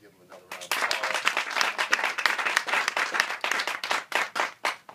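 Audience applause at a ribbon cutting for a housing fund property, a dense burst of many hands clapping that swells quickly and holds steady, fairly close and loud, with no talk over it.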